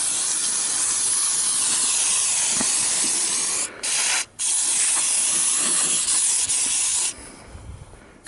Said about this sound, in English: So I'm gonna spray this all down really good.